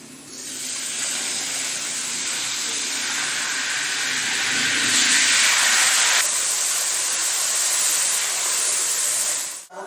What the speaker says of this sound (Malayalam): ഷുർക്ക ഒഴിക്കുക.